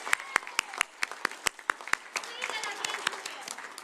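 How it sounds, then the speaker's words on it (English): An audience applauds for a mayor at a UNICEF World Children's Day event, with a dense burst of clapping and sharp individual claps standing out near the microphone, and voices murmuring underneath as it continues. "Let's give the mayor a huge round of applause."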